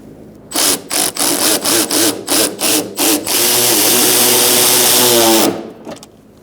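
A power tool snugs 10 millimeter bolts where the fender and bumper meet on a 2012-2017 Hyundai Accent: a string of short, close whirring bursts, then one long sustained run that cuts off near the end.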